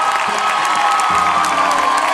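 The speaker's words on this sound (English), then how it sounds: "they were met with thunderous applause" Audience applause and cheering for former Who Wants to Be a Millionaire hosts at the Play It attraction at Disney's MGM Studios, a short loud burst of clapping and crowd noise with some shouting.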